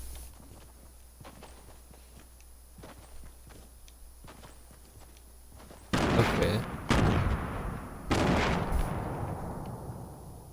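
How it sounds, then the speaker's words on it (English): Scattered light footsteps, then several heavy booming gunshots in Fortnite erupt, each with a long reverberating tail, loud and close like cannon fire. "the guns in here sound like they're firing like freaking World War One cannons"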